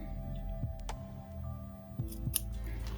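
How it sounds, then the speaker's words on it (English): Scissors cutting through a single layer of fabric while sewing a bucket hat, a few quiet, close crisp snips over a faint steady hum. "We don't want to cut more than what we're going to stitch, so just a tiny bit here."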